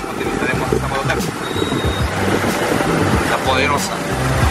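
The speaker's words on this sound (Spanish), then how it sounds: "Acá en Jaén utilizaremos esta moto taxi" Moto taxi riding through Jaén, its engine droning steadily low and close under rushing wind and road noise for the whole stretch, with voices mixed in.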